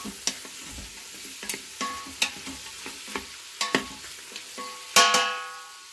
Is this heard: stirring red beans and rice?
yes